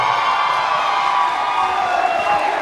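A wrestling arena crowd at an EPW Evolution 2026 show cheers and whoops in a steady, dense roar that holds level across the whole moment, with no pause or letup.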